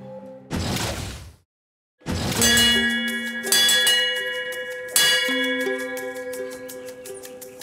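A school bell rings in the morning: a rushing noise, a brief silence, then three loud metallic strikes about a second and a half apart, each leaving a long, clear, humming ring that decays slowly.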